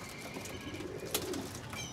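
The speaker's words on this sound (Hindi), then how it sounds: "ये कबूतर देखें कैसा कबूतर है" Pigeons for sale in Lahore coo softly amid a steady hum of ambient background noise, with one brief louder burst partway through.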